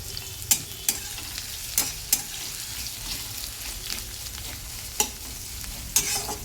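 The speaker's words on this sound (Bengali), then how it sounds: "পেঁয়াজটা ভালো করে ভেজে নেব" Sliced onion frying in oil in a pan while being stirred, with a steady soft sizzle broken by sharp spatula scrapes and taps against the pan about every second or two.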